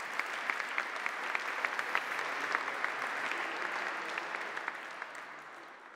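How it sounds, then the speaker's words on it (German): Warm applause from the audience at a seventh-anniversary celebration with dancers, a soft, distant, continuous patter of many hands with a few sharper claps, slowly tapering off. "Und da doch gerne nochmal ein herzlicher Applaus für euch alle"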